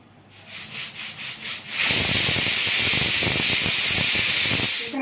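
A pressure cooker making bisi bele bath lets off steam, first with several quick rhythmic puffs, then a loud, sustained close hiss that continues until the end, with no talking.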